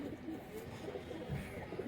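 Pigeons coo softly in low, throaty, repeated murmurs, fairly faint under a steady background.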